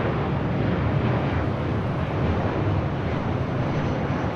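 A Southwest Airlines Boeing 737-800 arriving at LAX from Albuquerque, a steady broadband jet roar that stays loud and constant throughout with no talking.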